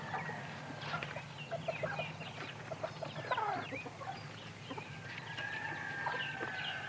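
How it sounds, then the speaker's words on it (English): A rooster clucks and gives a strained, partial crow amid other fowl at a cockfighting setting, with a steady low hum underneath and no voices. "You want this chicken, Frank?"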